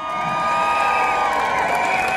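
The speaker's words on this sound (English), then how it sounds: "Give them a massive cheer." A crowd at an outdoor union rally cheers loudly and continuously for a banner group supporting miners, a dense wash of shouts and whoops sustained throughout, with no clear speech over it.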